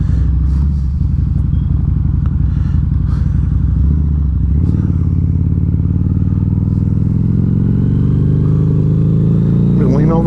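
Steady droning engine of a 2012 Harley-Davidson V-Rod Muscle with its Porsche-designed motor and huge 240 rear tire, running continuously on the road with wind rumble and someone talking over it throughout.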